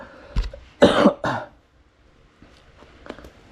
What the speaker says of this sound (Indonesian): Duh, sorry saya batuk.